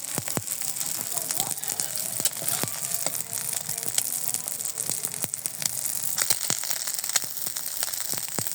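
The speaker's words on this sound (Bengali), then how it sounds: "আমার অল্প তেলে ডিমগুলো সব ভাজা হয়ে গেছে" Eggs fry in a small amount of oil in a pan, producing a continuous crackling sizzle with frequent sharp pops throughout.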